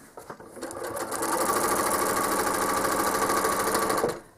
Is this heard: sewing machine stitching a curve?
yes